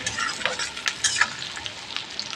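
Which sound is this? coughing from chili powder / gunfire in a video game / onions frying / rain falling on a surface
onions frying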